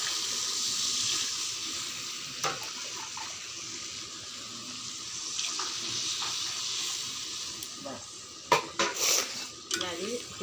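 Water is added to a pan of rohu fish curry with cooked-down spice masala, giving a steady close hiss and splash with clinks and scrapes of utensils against the pan, sharper knocks near the end.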